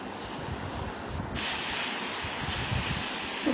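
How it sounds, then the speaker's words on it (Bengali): Vegetables with drumstick, turmeric and salt sizzle loudly in a pan while being sautéed for shukto, a steady hiss that jumps brighter and louder partway through. "সবজিটা একটু ভালো করে কষিয়ে নেব।"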